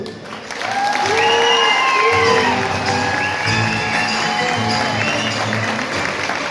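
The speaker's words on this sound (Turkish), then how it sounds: "Sizlerden ricam valla ıslık ıslık çalın. Alkışlayın." An audience claps and whistles at a celebration for a Saadet Party district chair's happy occasion in Küçükçekmece; sustained, dense applause runs throughout, with several rising and falling whistles cutting above it and some crowd voices mixed in.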